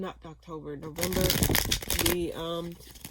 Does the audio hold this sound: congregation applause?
no